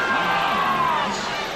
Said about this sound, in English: Chant of defense from the crowd, and the whistle underneath.